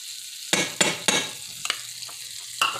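Margarine melting in a hot pan, about half a cup: a soft continuous sizzle broken by several sharp scraping strokes of a utensil, close and moderately loud, with no voices.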